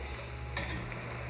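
Chicken thighs frying in a pan on the stove, a steady, continuous sizzle with a brief crackling burst near the middle, close and even, no voices.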